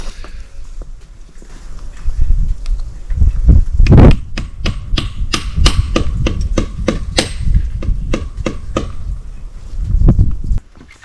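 Sharp, evenly spaced knocks ring out in a steady series, a hammer driving a sap tap into a tree, loud and close amid outdoor rustling.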